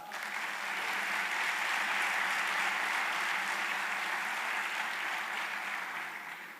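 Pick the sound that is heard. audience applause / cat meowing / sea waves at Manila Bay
audience applause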